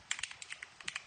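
Quick, faint clicking from typing on a computer keyboard, about a dozen light keystrokes in a brisk, uneven run, close but quiet, with no voice.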